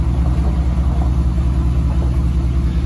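A GSPSCN Digital 12v air compressor inflates a car tire with a loud, steady, low motor rumble that pulses evenly, close and unbroken throughout.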